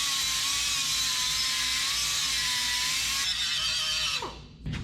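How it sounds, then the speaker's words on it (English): Carbide burr slowly enlarging a hole on a 1930 Model A, a continuous high-pitched whine from a rotary tool that runs steadily, shifts pitch near the end and then winds down, with no talk. "So now we'll just slowly take it out with our carbide."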